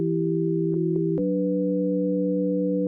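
Plain sine wave chords from the Operator synth in Ableton Live, pure sustained tones holding one chord, then shifting to another after about a second, clean and steady with no other sound.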